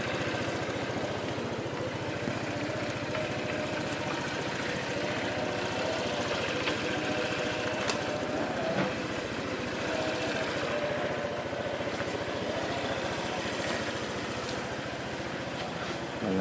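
A motorcycle engine warming up idles steadily at close range, a continuous even putter with no talking.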